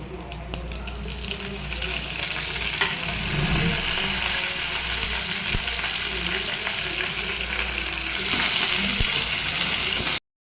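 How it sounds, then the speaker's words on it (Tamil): Mustard seeds, crushed garlic and curry leaves fry in hot oil for a Tamil yellow pumpkin curry: a steady, close, crackling sizzle runs throughout and swells slightly louder near the end. "கடுகு பொரியுது. இப்போது நசுக்கி வச்சுருக்க பூண்டு, அப்புறம் கருவேப்பிலை"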